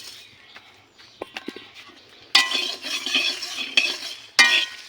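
Whole spices with dried red chilies and garam masala dry-roasted and stirred in a pan for mango pickle, a spatula scraping and clattering against the metal in bursts, with a soft sizzle underneath and no voices.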